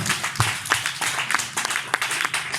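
A church congregation claps in praise of Jesus, with sharp, fairly regular hand claps over a dense, noisy background of voices and room sound.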